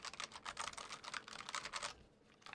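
Fast, continuous clicky keystrokes come from a compact Cooler Master SK622 mechanical keyboard, close and fairly quiet, then stop near the end.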